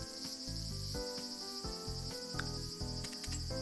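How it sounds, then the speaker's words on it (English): Crickets chirping in the Famicom Detective Club video game, a steady loud pulsing insect trill repeating in regular bursts over a looping synthesized music backdrop, no voices. "the birds are chirping, the crickets are twerping"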